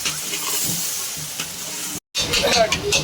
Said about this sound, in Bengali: মাছগুলোকে এবার মশলার সঙ্গে কষে নেব